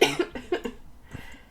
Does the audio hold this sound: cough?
yes